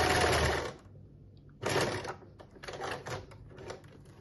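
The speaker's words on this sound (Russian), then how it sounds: "То есть нам сейчас нужно вот так вот накрест прошить несколько строчек через центр" Sewing machine stitching several crossing lines through fabric for a handmade interior piece, a close buzzing mechanical whir in bursts, starting and stopping between runs.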